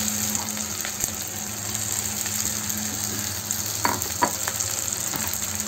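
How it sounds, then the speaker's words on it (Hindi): Sago pearls being stirred into a hot frying pan for sabudana khichdi, a steady close sizzle with occasional clinks and scrapes of the spoon. "अभी इसके अंदर में ये जो साबूदाना है सारे इसके अंदर मिक्स कर देंगे"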